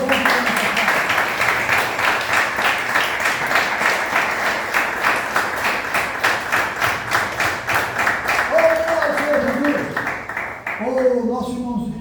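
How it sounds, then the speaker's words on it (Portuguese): A church congregation claps in steady, rhythmic applause for several seconds, loud and close, with voices and a sung melody coming in over the clapping near the end. "Vamos dar mais uma salva de palmas para o Senhor."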